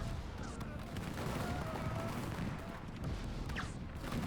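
Massed musket volleys crackle in dense, overlapping bursts from a Napoleonic war video game battle. The steady, continuous roll of fire sounds fairly close and lasts the whole stretch, with a faint voice now and then.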